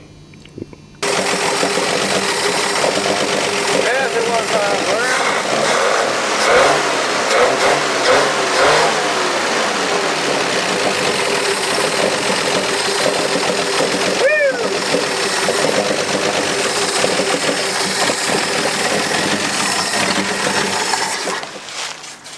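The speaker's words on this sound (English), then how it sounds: "I guess I got the timing chain right, huh? It fired right off." A Mopar 413 or 440 V8 fires up and runs loud and close for about twenty seconds with revving surges and rough, rattly idle; someone talks over it at times.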